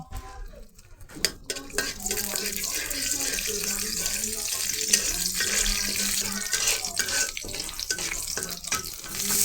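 Chopped ginger frying in hot oil in a kadai, a steady loud sizzle and crackle that rises after a brief quiet start and continues without talk.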